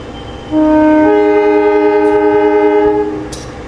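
A loud, sustained train horn blares for about two and a half seconds over low rumbling, then fades out.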